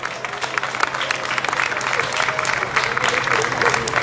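Audience applause for the evening's dignitaries at the opening of Mondo Carnaval's fifth anniversary, a full, sustained roar of clapping from a large crowd that swells slightly and holds steady, with voices mixed in.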